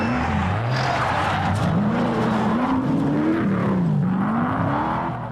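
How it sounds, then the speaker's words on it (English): A Porsche 968 Club Sport rally car on a tarmac stage takes a slow corner too fast, its engine note rising and falling under loud, continuous tyre squeal and skidding for several seconds. "Too fast for Damien Daruniak and Nick Alexopoulos in the Porsche 968 Club Sport"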